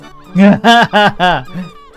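Harsh honking bird squawks from gulls mobbing the player in the PC adventure game Lucy Dreaming, four loud calls in quick succession with no talk over them.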